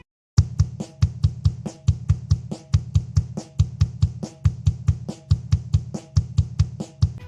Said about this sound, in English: The iconic style of drumming that is heard on this album and on many other krautrock albums is something called the motoric beat.